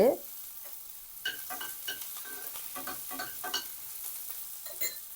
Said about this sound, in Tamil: இந்த வெங்காயம் கொஞ்சம் வதங்கட்டும்